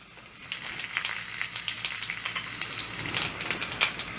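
Dried red chillies with chana dal, urad dal and cumin crackle in hot oil for a tempering, a steady close sizzle with quick pops and spits throughout, no voices.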